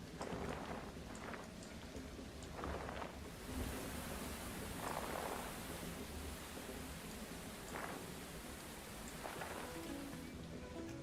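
Steady rain falls in the Splatoon 3 video game, a faint, continuous wash of noise lasting throughout, with a few soft, muffled bursts rising over it.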